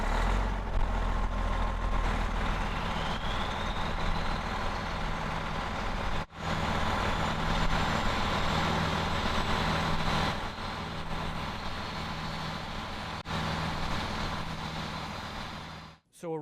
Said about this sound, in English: Let you listen in to some of the beautiful noises that this engine will make.